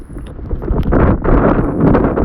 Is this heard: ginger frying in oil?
no